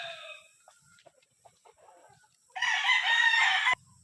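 A gamecock, a crossbred fighting rooster, gives a few faint clucks and scratches before one loud, close crow that rises suddenly and holds for about a second.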